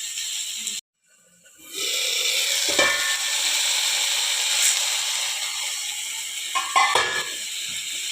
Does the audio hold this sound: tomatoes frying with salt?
yes